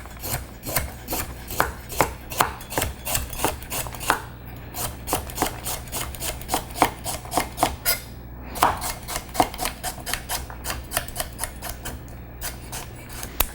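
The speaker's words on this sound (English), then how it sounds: "let's go ahead and chop our carrots" Carrots are chopped with a Rada knife on a cutting board, a steady run of many close, crisp knife strikes in quick rhythm with a few brief pauses, and no talking.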